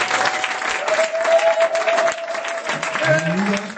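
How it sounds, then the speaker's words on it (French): Congregation applauding in a church service, brisk clapping from a gathered crowd with voices calling out over it. "Est-ce que tu peux applaudir les gens?"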